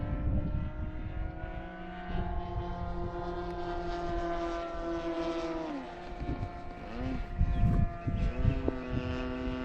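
A Great Planes Ultra Stick RC plane powered by an OS GT 15 gas engine drones steadily overhead, a sustained buzzing whine with shifting pitch that holds throughout, slightly louder toward the end.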